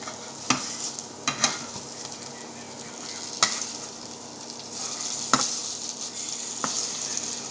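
Aloo chop, Bengali potato chops, frying in a little oil, giving a steady soft sizzle with occasional louder pops and spatters, close by with no talking.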